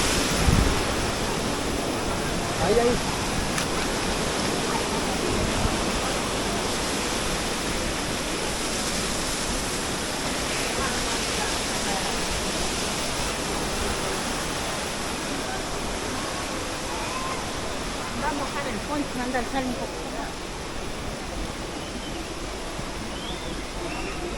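A small waterfall cascade in Baños, Ecuador, pours with a constant, dense rushing hiss of water that stays loud and steady throughout without any pauses.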